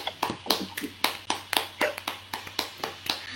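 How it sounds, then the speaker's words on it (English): Hands clap in a loose, uneven rhythm, about a dozen sharp claps close by, with short gaps and slight variation in loudness. "Clapping."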